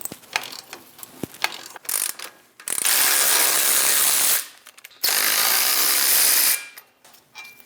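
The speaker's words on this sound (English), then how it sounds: "we're going to remove our 2 caliper bracket bolts using a 21mm socket" A ratchet with a 21mm socket loosens the caliper bracket bolts on a Chevrolet Express 2500 van. It opens with a few close, sharp clicks, then gives two long, loud bursts of rapid ratcheting, each lasting about two seconds.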